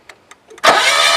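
A few faint clicks, then a GA15DE engine with its spark plugs removed cranks with a loud, steady churning roar that continues to the end.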